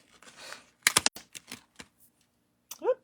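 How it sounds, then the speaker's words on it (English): A mini cut and emboss machine runs craft dies through with a quick burst of sharp clicks and clacks near the start, then scattered lighter taps, close and fairly loud, with a short voiced sound at the end. "So I'm using my mini cut and emboss machine."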